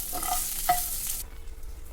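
Green chilies for mint chutney sizzle in a pan with oil, a soft bright hiss that stops abruptly partway through, with one faint clink of a utensil.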